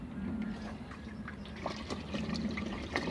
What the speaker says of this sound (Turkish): üzerindeki eksik kalan suyu tamamlıyoruz